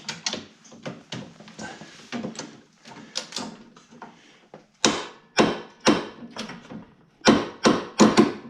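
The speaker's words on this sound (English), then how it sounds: "that noise is the clutch sliding onto the shaft." Repeated sharp metallic clunks and scrapes as the clutch slides onto the crankshaft of a 1973 Arctic Cat Lynx snowmobile, steady at first, then louder and more widely spaced.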